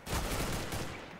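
Rapid burst of gunfire in Counter-Strike: Global Offensive, loud and dense, shots crowding together across the whole moment with no talk over them.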